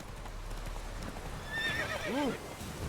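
A horse in The Witcher 3 clip-clops on the ground, then lets out a clear whinny near the end, with faint game ambience beneath.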